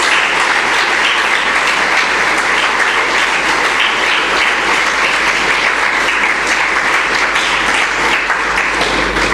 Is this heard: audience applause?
yes